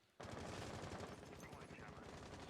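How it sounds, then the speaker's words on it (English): Heavy automatic gunfire exchange in a Rainbow Six Siege esports match, dense overlapping bursts starting abruptly and continuing loud and sustained, with faint commentary beneath. "their gunfire is answered by Astralis' gunfire"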